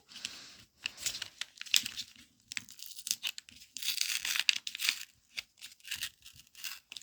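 Crinkly plastic packaging of an advent calendar treat being torn open in several uneven rips and pulls, close up, with crackling in between and no speech.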